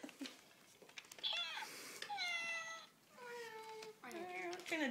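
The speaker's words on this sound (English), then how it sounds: "did you hear that cat?" A cat meows several times in clear, drawn-out cries, close and fairly loud, with brief pauses between calls.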